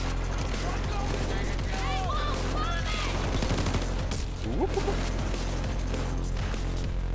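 Rapid bursts of L85 assault rifle fire in the shooter game Payday 2 crackle alongside other gunshots and impacts in a dense, loud firefight, with chaotic shouting mixed in.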